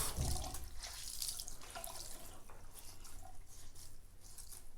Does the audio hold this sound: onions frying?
no